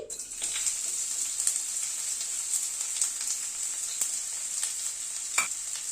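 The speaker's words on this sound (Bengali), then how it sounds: "ফুলকপিটাকে একটু ভেজে তুলে নেব আগে" Steady, bright sizzling of cauliflower frying in hot oil, with occasional soft stirring scrapes and small pops, close and continuous.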